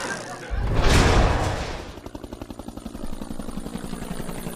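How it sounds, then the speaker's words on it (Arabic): A breakfast plane arriving from Switzerland, heard as a loud rushing swell of aircraft noise that peaks early, then settles into a rapid, rhythmic rotor-like chop. "طيارة فطار معاليك وصلت من سويسرا يا فندم"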